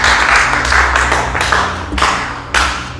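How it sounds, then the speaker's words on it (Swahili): A church congregation claps for Jesus during a sermon, with loud, uneven bursts of applause from many hands close by, swelling and fading over a few seconds. "mpigie Bwana Yesu makofi"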